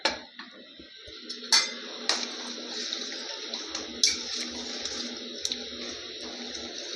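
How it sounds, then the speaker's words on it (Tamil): Ground-coconut water poured into a simmering chickpea curry in a pot, a soft, steady trickle punctuated by a few sharp clinks of a utensil against metal, close and fairly quiet. "ஒரு அரை டம்ளர் தண்ணி ஊற்றிடலாம் இது தேங்காய் அரைச்ச தண்ணி தாங்க"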